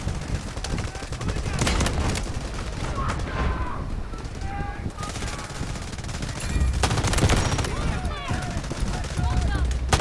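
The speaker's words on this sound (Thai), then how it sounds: "เสียงเหมือนมีคนยิงเรานะที่ขวาม" Rapid bursts of gunfire in the video game Delta Force crackle and rattle throughout, with automatic fire under a talking voice and scattered electronic tones.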